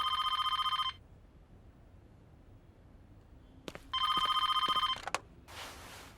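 A telephone rings in two bursts of electronic bell trills, loud and close, separated by quiet room tone and a few clicks, with a rustling noise at the end.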